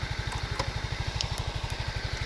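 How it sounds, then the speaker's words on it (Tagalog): A Yamaha M3 125 motorcycle idles close by with a quick, even, low putter of engine pulses, each beat distinct. Faint clicks and ticks sit over the steady idle, with no talk. "At yan yung andar, walang usok, no. So, wala naman siyang usok. Ayan, tahimik naman yung makina."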